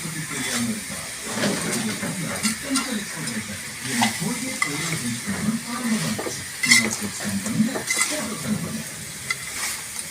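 Spices sizzle and crackle in hot oil while a utensil stirs and scrapes the pan in a loose, repeated rhythm, close up, with faint talking.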